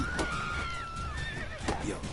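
A horse in The Witcher: Wild Hunt video game gives a clear, close whinny that rises and wavers for about two seconds, with faint hoof clatter beneath.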